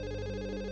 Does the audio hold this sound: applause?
no